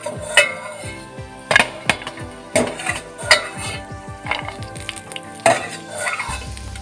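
Cashews and almonds frying in ghee in a pan, with loud metallic clinks and scrapes of a utensil against the pan in uneven bursts over a soft sizzle.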